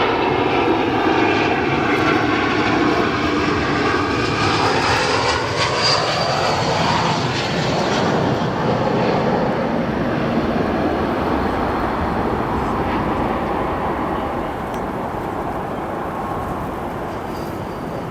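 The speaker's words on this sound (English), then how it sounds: "Next arrival here, an American A321." An American Airlines A321 lands at Chicago O'Hare, its jet engines roaring loud and steady throughout with a broad rushing tone that eases slightly toward the end, with no voices.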